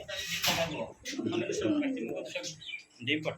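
Pigeons coo at a pigeon farm, with soft throaty calls rising and falling across the moment and short bird sounds mixed in. People talk nearby underneath.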